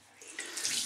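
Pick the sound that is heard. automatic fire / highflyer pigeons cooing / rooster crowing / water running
water running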